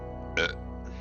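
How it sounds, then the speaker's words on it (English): One short, loud burp erupts in the middle of a quiet second of background hum. "Can chat please rate that burp out of 10?"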